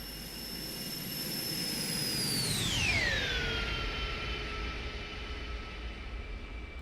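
An Airbus A300 in a flight simulator makes a flyby, its jet whine rising as it closes in, peaking at about three seconds, then dropping sharply in pitch and fading into a lower rumble as it moves away.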